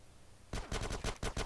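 Gunfire in GTA San Andreas on Android: a quick run of about six loud, punchy shots in an uneven rhythm, close and dominant over a faint game background, with no talking.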